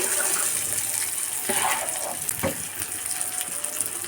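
Stir-fried taro tipped into a pan of browned onion and garlic, giving a steady sizzling hiss with a couple of sharp clatters as the pieces land, close and moderately loud.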